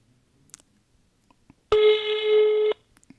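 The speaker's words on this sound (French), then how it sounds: "Donc, on va appeler cet homme." A single telephone ringback tone sounds for about a second as a call is placed, a clear steady electronic beep heard close after faint handling clicks.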